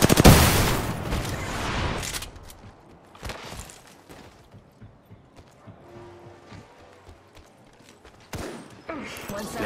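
Gunshots in the battle royale game Apex Legends: a loud burst of fire opens, followed by a few sharp single shots and scattered impacts fading under quieter game ambience, with another burst near the end.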